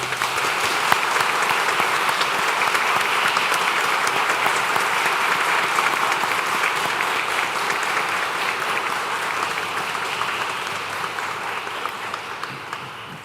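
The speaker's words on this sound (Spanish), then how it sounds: "Aplaudamos este logro." A crowd at a lawyers' swearing-in ceremony before the Supreme Court applauds steadily and loudly for about thirteen seconds, a dense even wash of many hands clapping that tapers slightly toward the end, with no talk over it.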